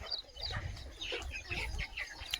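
Free-range country chickens wander in the shade on a farm in summer, giving soft clucks and low murmuring calls at a moderate distance over a faint outdoor background, with no talk.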